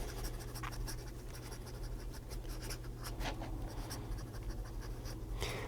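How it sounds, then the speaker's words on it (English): A fountain pen with a blue cartridge, apparently a Kaweco, scratches quickly across paper in a steady run of close, dense nib strokes, with no talking over it. "Okay, fast writing."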